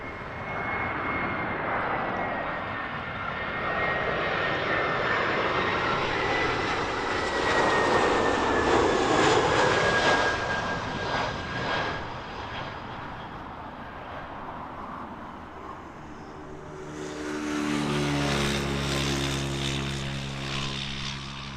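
A Brussels Airlines airliner in Polka Dot Special livery arrives on approach, its engines building from a distant whine to a loud, close roar before easing off, with a low rumble swelling again near the end.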